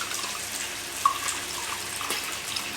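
Hot beef gravy mixed with water is poured into a cooking pot for biriyani, giving a soft, steady liquid rush with a faint splash partway through, alone and fairly quiet.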